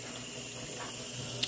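A kitchen faucet runs water into the sink in a steady, even rush, close and fairly loud, with a brief clink near the end and no talking.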